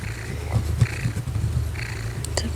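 A cat purrs softly and continuously up close in a quiet indoor room, a low rumbling drone with faint rustles and small clicks over it.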